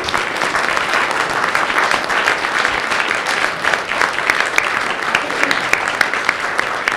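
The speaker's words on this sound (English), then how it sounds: "Give them a round of applause." An audience gives the PUC staff team a round of applause at a regional leaders workshop, with dense, loud, continuous clapping from many hands throughout, close and sustained.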